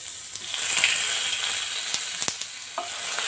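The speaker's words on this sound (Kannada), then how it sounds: "ಮೀಡಿಯಮ್ ಫ್ಲೇಮಲ್ಲಿ ಇಟ್ಕೊಂಡು ಇದನ್ನು ಸ್ವಲ್ಪ ಫ್ರೈ ಮಾಡ್ಕೊಳ್ಳೋಣ" Round-cut onion fries in hot oil over medium flame for a veg sandwich, a bright continuous sizzle broken by a few sharp clicks and scrapes of stirring.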